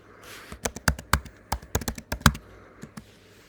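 Fingers tap out a search word on a computer keyboard, a close, quick burst of about a dozen crisp key clicks in uneven rhythm, with no talking.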